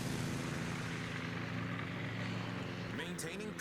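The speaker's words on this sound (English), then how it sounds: "Send out torpedo bombers." Steady propeller-aircraft drone of torpedo bombers in World of Warships, a continuous low engine hum held at even loudness throughout, with a brief voice near the end.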